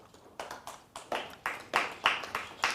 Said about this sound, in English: that's a sorry applause.